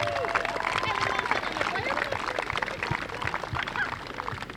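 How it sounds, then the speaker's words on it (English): Audience applause and cheering for volunteer Kathy Ryan at a men's alumni soccer event, a dense, steady clatter of clapping from a sizable crowd throughout, with scattered voices mixed in. "round of applause for her"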